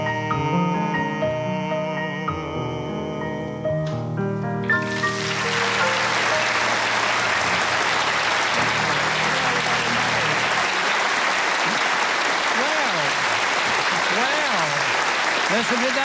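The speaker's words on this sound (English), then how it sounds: "Listen to that applause." TV studio audience breaking into applause after a musical number fades out, a loud sustained wash of clapping from a large crowd that continues evenly to the end.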